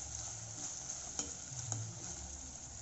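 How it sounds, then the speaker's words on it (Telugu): Ginger garlic paste fries in a pan for a prawn curry, giving a low, steady sizzle with two soft spoon scrapes; quiet and close, with no voices. "అల్లం వెల్లుల్లి పేస్ట్ వేసుకోవాలి ఒక స్పూను. కొంచెం పచ్చివాసన పోయేదాకా ఫ్రై చేసుకోవాలి."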